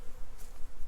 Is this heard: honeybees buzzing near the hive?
yes